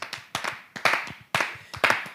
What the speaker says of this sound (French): Applaudissez comme des sauvages.